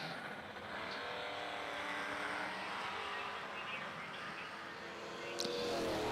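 Race cars, a Mustang among them, run at speed around a track, their engine drone heard from a distance as a steady buzzing roar with a sharp burst near the end.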